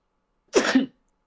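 A single sharp sneeze bursts out close to the microphone in two quick explosive parts, with silence before and after.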